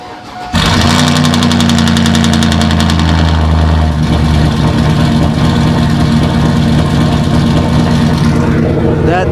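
GMC Denali engine cold start with an aftermarket muffler: a quick crank, then it fires into a loud, rumbling exhaust idle that stays high briefly before settling into a steady throb, recorded up close.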